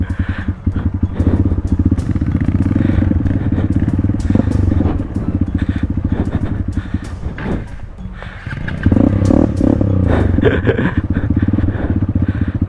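A motorcycle engine putters steadily up close while riding backroads, dipping briefly as the throttle eases before picking back up, with some rattling clatter.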